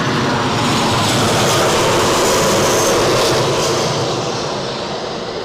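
Airbus A321 jet airliner passing close and loud, a broad continuous engine roar with a high whine that holds steady for several seconds and then eases slightly toward the end.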